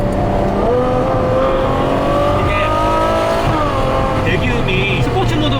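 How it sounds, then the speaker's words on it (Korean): Ferrari 812 Superfast V12 exhaust in race mode, a loud continuous engine drone with rising and falling pitch as it revs through gears, heard from inside the car, with a voice talking over it. "배기음이 스포츠 모드 넣었을 때랑은 또 완전 달라."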